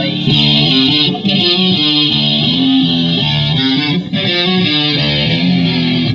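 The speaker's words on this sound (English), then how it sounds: "you get that nice, distorted, kind of screaming sound of the guitar" Distorted electric guitar plays a sustained, gritty riff with a screaming high edge, loud and continuous, with two brief dips in the sound.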